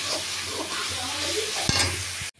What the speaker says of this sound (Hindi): उसको मैं फ्राई होने देती हूँ